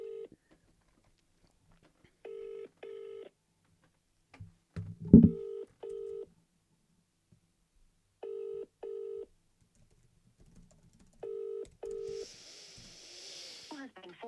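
A phone is dialed with short paired keypad tones in several separate groups during a cold call to a company. The tones are clear and close against near silence, with brief voices between them and a soft hiss near the end.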